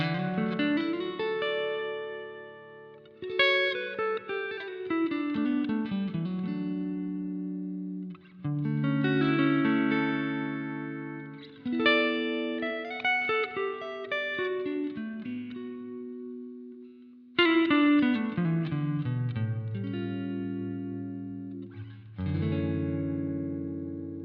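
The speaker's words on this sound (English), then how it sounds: "the next patch is the fast decay type of reverb" A guitar plays a series of chords and phrases through a Boss RV-500 pedal set to fast decay reverb, with the effect level turned up and low damping added, each chord ringing briefly before trailing off quickly.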